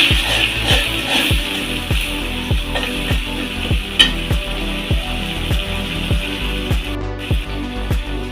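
Turmeric, chili, cumin and coriander powders frying in oil for an egg curry with potatoes and onion, a steady sizzle under regular rhythmic scraping strokes of a spatula stirring the pan, close and fairly loud.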